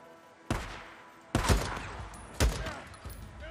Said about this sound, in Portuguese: Eu tomei um tiro!